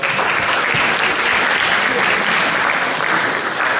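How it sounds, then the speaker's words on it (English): Audience at a high school athletic banquet applauds track athletes with steady, dense clapping. The sustained, fairly loud ovation has some crowd murmur underneath. "Please give these ladies a round of applause."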